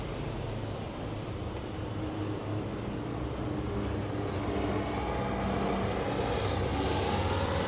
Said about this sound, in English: That's that military aircraft again.